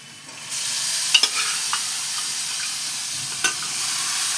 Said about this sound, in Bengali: এবার এর মধ্যে আমি এই মাংসগুলো দিয়ে দিচ্ছি